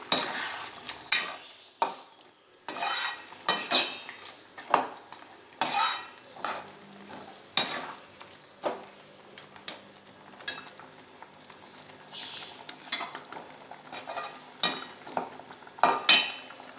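A spatula stirs and scrapes an onion and tomato base for mutton curry gravy in a pan, with irregular metallic scrapes and clinks close up over a soft sizzle and short quiet gaps.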